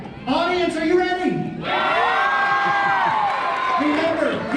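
An audience cheers and whoops at a SeaWorld Orlando sea lion game show, loud and sustained, with excited children's shouts and yells rising over the crowd and continuing to the end.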